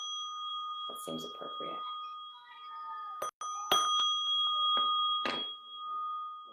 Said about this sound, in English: I'm going to ding the bell.